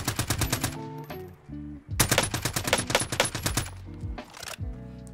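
Gunfire in the Call of Duty Warzone video game: rapid automatic bursts, loud and sustained, with brief gaps between volleys and no voices over the shooting.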